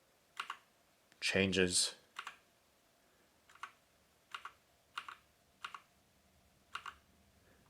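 Key presses on a Havit HV-KB389L RGB backlit mechanical gaming keyboard with brown switches: a series of separate clicks at an uneven, unhurried pace, close and fairly crisp, following a short burst of someone speaking.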